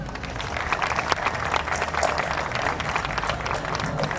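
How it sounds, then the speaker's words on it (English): A crowd applauds after a speech at the opening of an industrial facility in Ghana, a dense, steady wash of many hands clapping at full volume for the whole stretch, with no voices standing out. "Please, a round of applause."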